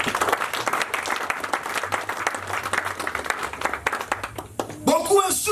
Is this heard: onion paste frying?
no